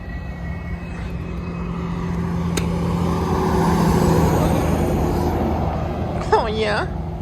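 A Nissan 370Z with its muffler deleted drives past, its raw exhaust swelling as it nears and then fading away, with people talking over the end of the pass.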